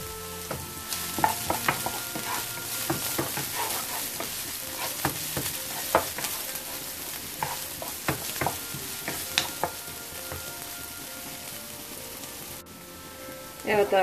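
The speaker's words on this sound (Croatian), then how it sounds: "luk se malo popržuje i tu dodajemo paprike" Onions and peppers frying in a pan while being stirred: a loud, continuous sizzle with frequent close scraping and clicking stir strokes throughout, and no talking.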